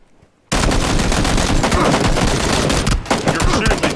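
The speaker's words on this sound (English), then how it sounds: "You're shooting me." Automatic gunfire in the battle royale game PUBG, erupting suddenly after a quiet moment into loud, dense, rapid bursts that continue almost without pause, with a brief dip partway through.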